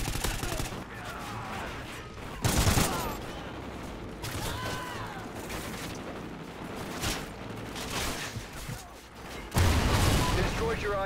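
A salvo mortar fire strike in Call of Duty: Ghosts, on the Containment map, brings repeated heavy blasts and booms at irregular intervals amid constant battle noise and gunfire, with a voice talking over it.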